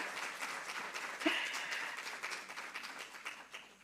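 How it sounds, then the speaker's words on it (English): Applause from an audience after an online education talk, a steady wash of many hands clapping at moderate distance, fairly faint and even throughout with no voices. "People were applauding you."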